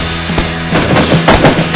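Loud bursts of gunfire in PlayerUnknown's Battlegrounds, scattered rapid shots and crackling reports layered over a humming game background, growing denser toward the end.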